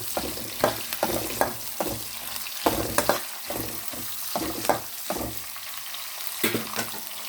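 Seasoning seeds, onions and curry leaves frying in hot oil, a steady close sizzle broken by repeated scraping stirs in a rhythmic pattern, with no voices.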